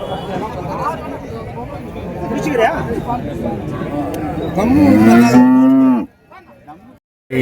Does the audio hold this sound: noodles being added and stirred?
no